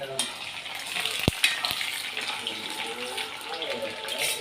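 Garlic sizzles and fries in a pan for achar, a steady broadband crackle with a couple of sharp clinks partway through.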